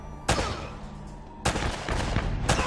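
Gunshots in the Uncharted action game ring out in three separate loud cracks, each followed by a short ringing tail, with quiet game ambience in between.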